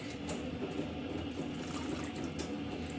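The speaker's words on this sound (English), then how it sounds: "put some water in there until the beets are covered" Water pours into a jar of pickled beets until they are covered, making a steady, soft trickle and gurgle that runs close and fairly quiet throughout.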